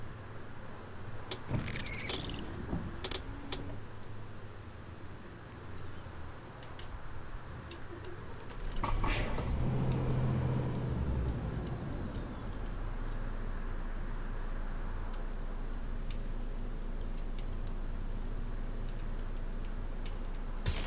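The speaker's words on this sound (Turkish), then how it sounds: "Bu arada silecekler neden çalışıyor onu anlamadım." Windshield wipers sweeping on a Volvo double-decker bus in the Omsi 2 driving simulator, a soft regular ticking and swishing rhythm over a low steady engine hum inside the cab, no talk.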